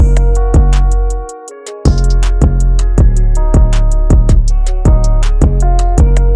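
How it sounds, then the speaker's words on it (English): A punchy electronic beat with steady kick drum hits and a booming deep 808 bass, layered with crisp hi-hats and melodic synth notes. "And then my kick and 808."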